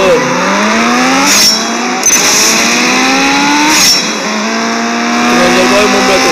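Race car engines scream and rev up repeatedly in a racing video game, with rising gear-change sweeps and sharp bursts of tire squeal, loud and close throughout.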